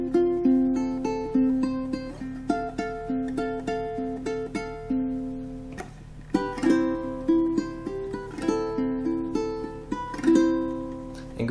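Ukulele picking part of a song: clear plucked notes and chords in a steady, gentle rhythm, close and alone, with a brief pause midway before the phrase resumes.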